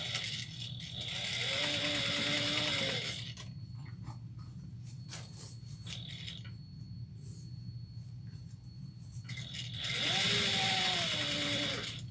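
Sewing machine back stitching a seam on a travel bag, quiet rapid mechanical whirring that swells at the start and again near the end, with a steady hum between bursts.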